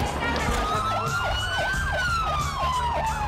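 Police sirens wail in a street during the 30 September 2010 events in Ecuador, a loud, steady rising tone overlaid with rapid, repeated yelping cycles, close and continuous.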